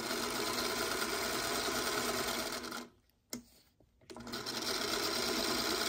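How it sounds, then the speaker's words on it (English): A sewing machine stitches along a marked line on quilt blocks, its rapid motor whir running loud and steady, then stopping for about a second before resuming. "So I'll probably just go in right here and just sew right on the line"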